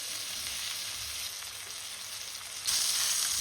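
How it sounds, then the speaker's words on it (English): Steady, bright sizzling of chicken frying in a pan for chicken piccata, a continuous crackly hiss that grows louder near the end, with no voices. "Listen to the sizzle."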